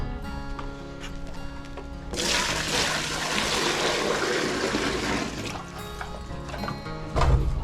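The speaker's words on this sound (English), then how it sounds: "I'm actually just giving these guys water by buckets." Water is poured from buckets for farm animals, making a loud, steady rushing splash that lasts several seconds before it tapers to trickles and a few knocks.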